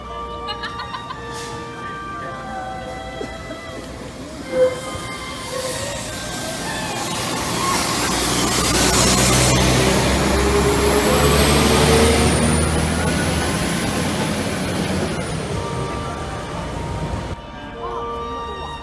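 A Chinook helicopter flying overhead gives a broad roar that swells to a peak at mid-clip and slowly fades, with chickens clucking nearby and a person speaking briefly.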